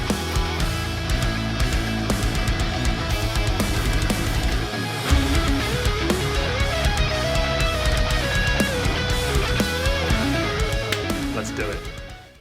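Mixed and mastered metal track built with GGD Modern & Massive 2 drums, a loud, dense full-band wall of distorted guitars, pounding drums and a melodic lead line, playing continuously before fading out at the end.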